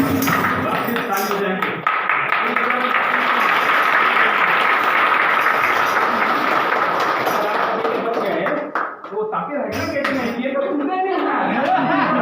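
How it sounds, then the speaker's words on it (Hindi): A congregation at a Palm Sunday home blessing claps together, dense continuous applause filling most of the stretch, loud and close, then thinning into scattered claps with voices near the end. "आओ हम सब मिलकर ताली बजाएं"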